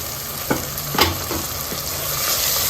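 Medium-sized tomatoes, each cut in two, sizzle and fry in a pan for a spicy mutton head curry, with a steady hiss and a few sharp clatters of stirring, close and without talk.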